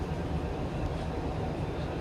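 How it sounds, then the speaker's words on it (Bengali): A train pulling into a crowded station, a low steady rumble and mechanical drone dominating the short stretch, with faint voices in the background. "দেখুন ট্রেনটা এই সবে"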